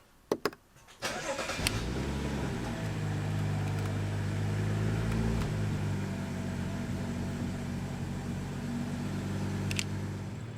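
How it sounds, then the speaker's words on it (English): A salvage BMW car's engine cranks with a few sharp starter bursts, then catches and settles into a steady, close idle hum that runs to the end, with a faint click near the finish. "Alright guess we're gonna get to hear the car."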